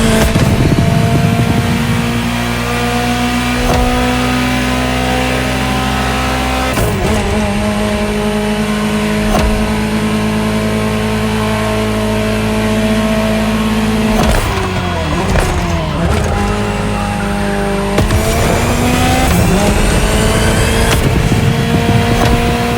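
Ferrari GTO engine in the racing game The Crew Motorfest, a steady loud drone of revs that climbs and drops through gear changes, with brief tire noise and no talk.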